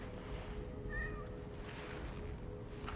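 A short cat meow from a video game sounds once over a steady low background hum, fairly faint.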